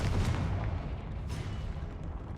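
A Confringo blast spell in Hogwarts Legacy goes off as a loud, booming burst with a rumbling low-end tail that stays dense and sustained through the short clip, with no talk over it.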